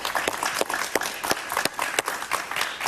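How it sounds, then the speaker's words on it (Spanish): A television studio audience on a Venezuelan talk show applauds to welcome a journalist guest. The clapping is lively, with sharp individual claps standing out from the dense crowd sound throughout. "aplauso, por favor."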